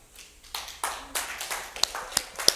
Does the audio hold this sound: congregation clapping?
yes